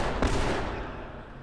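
Gunfire in The Last of Us, a single heavy shot near the start followed by a dense, decaying rumble of reverberation, loud and close.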